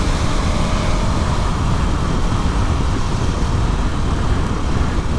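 A KTM 1290 Super Adventure S motorcycle, 2022 model, rolls on the throttle in fifth gear to pull past traffic, its engine a steady loud drone under heavy rushing wind noise, continuous and close with no pauses.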